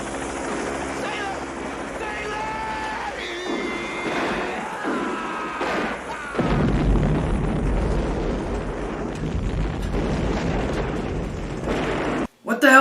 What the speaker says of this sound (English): What the hell's up with these guys going out in explosions?